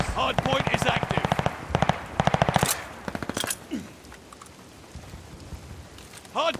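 Automatic gunfire rattles around a hard point in a multiplayer shooter. Rapid bursts crack close and loud, with short pauses between them, then trail into scattered shots while voices speak over the fighting.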